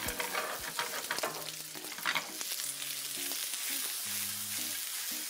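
Onion frying in olive oil in a pan makes a continuous crackling sizzle, close and steady, with stirring scrapes and a few faint tonal hums underneath.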